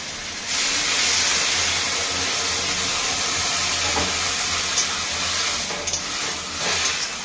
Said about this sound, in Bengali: অল্প একটু লঙ্কার গুঁড়ো দিয়ে দেবো, জল দিয়ে দেবো,